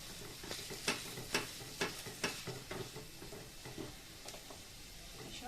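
A ladle stirs and mashes cooked mung dal with shrimp in a pan, making a series of soft, rhythmic scraping strokes about every half second over a faint, quiet sizzle.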